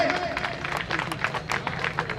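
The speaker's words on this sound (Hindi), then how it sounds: "एक बार जोरदार तालियां हो जाए" Audience applause in front of a festival stage at a Sant Ravidas commemoration festival in Vijay Nagar, Kanpur, with dense overlapping claps throughout, moderately loud and close, under a murmur of crowd voices.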